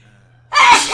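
A single sudden sneeze bursts out after near silence, loud and close, breathy and broadband, with a faint low hum underneath beforehand.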